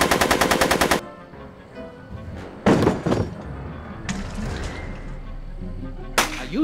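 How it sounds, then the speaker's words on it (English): A rapid burst of automatic gunfire in the Back to the Future video game opens loud and close, then gives way to scattered heavy thuds and single sharp impacts. "Are you shooting at me?"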